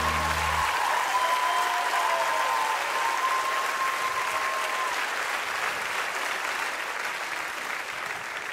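A theatre audience at a comedy show breaks into loud, sustained applause, a thick continuous wash of clapping that holds steady for over eight seconds and eases only slightly near the end.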